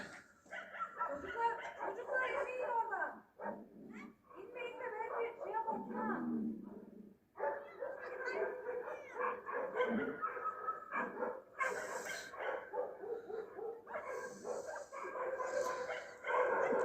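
A pack of neighborhood street dogs in a small Turkish steppe town barking, yipping and whimpering as they fight among themselves, heard at a distance beneath someone talking almost continuously.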